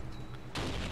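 A single loud explosion in Modern Warfare 3 on PC, a sudden close blast that bursts in mid-clip after quieter game ambience.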